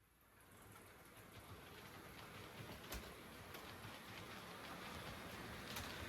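A model locomotive runs along its track with a faint, steady rolling rumble and light clicking, fairly quiet and continuous, with a few sharp ticks over the running noise.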